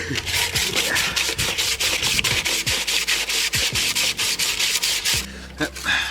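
Cheap 100-grit sandpaper is rubbed back and forth over a koi pond pipe in quick, rhythmic, close-up strokes, each pass a loud gritty rasp, before the scrubbing stops near the end.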